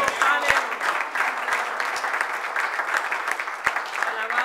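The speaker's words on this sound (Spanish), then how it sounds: "Vamos a dar un aplauso a Cristo." A church congregation applauds during a worship service, a dense, steady roar of clapping that fills the room for several seconds, with a few sharp knocks breaking through.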